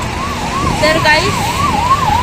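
A Nandadeep travel bus passes sounding a wavering, siren-like musical horn that rises and falls continuously over road noise, with a brief voice speaking partway through.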